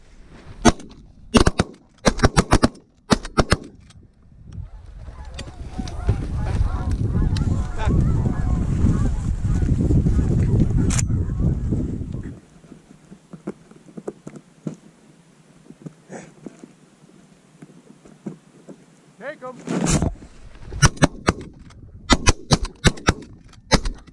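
Shotguns fire during a December goose hunt in the Tri-Cities, sending several sharp, loud blasts in quick clusters at the start and again near the end, with geese honking loudly in between.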